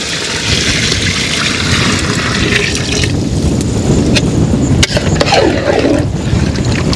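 Water is poured out of a bucket outdoors, giving a loud, continuous rushing splash with wind noise in the background.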